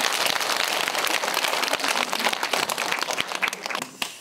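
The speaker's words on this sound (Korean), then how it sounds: "큰 박수로 맞아주시기 바랍니다." A large audience applauds steadily to welcome a celebration performance at a graduation ceremony, dense loud clapping throughout with no talk.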